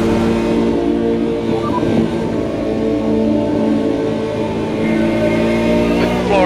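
Ferrari F355 Challenge race car engine in the Automobilista 2 game at Monza, a loud steady drone with layered harmonics that climb and fall through gear changes, running continuously at close range.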